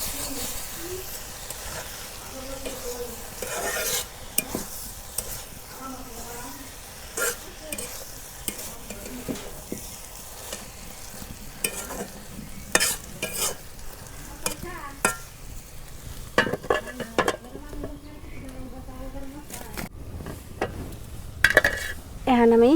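Taro greens (kochu shak) being stirred in a pan in a village kitchen: a spatula scrapes and clinks against the metal repeatedly over a soft frying sizzle, with occasional faint voice sounds.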